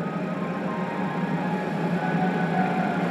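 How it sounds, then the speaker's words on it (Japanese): A JR Shikoku 2000 series and 8000 series Shiokaze limited express train arrives at a station, rumbling steadily nearby with a continuous mechanical drone and a faint high whine, no voices heard. "電車が到着します。"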